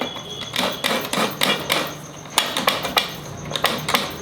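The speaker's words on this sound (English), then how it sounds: "I will scrape the coconut." Coconut being scraped with a hand scraper for a spinach and shellfish dish, heard as a steady run of sharp, rhythmic scraping strokes up close, roughly two per second, with no talking.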